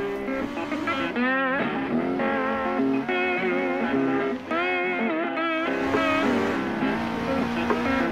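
A race car engine in a racing video game on the Targa Florio road circuit in Sicily revs hard and rises in pitch through repeated gear changes, loud and close with no talking.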